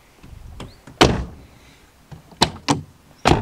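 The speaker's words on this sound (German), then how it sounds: "Die Tür geht direkt sofort auf." Door of a Volkswagen Golf 4 VR6 with a replaced lock, sharp latch clunks and thumps: a quieter knock early, one strong clunk near one second, then three close, loud mechanical bangs toward the end, no talk.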